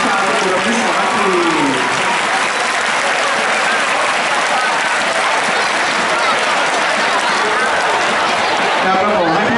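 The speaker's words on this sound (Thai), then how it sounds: "เสียงปรบมือที่ฝ่ายหนึ่งมีให้กับผู้ที่ฝ่ายหนึ่งนี่แหละครับ" Sustained, loud applause and cheering from school cheering sections at a Chaturamitr Samakkhi football match between Suankularb and Debsirin, a dense wash of clapping from a large crowd with no breaks.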